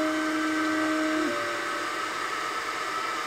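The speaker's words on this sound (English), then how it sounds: "I can click the framing button and then watch the laser travel to see where everything is going to end up." An xTool D1 10-watt laser engraver gantry traveling during framing over a tile, a steady close whirring motor drone with a tone that drops partway through, no talking.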